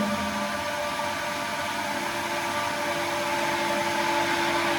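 A steady, loud mechanical whine of a running water pump pushing water into the system, constant and close, with a droning hum and rushing noise throughout.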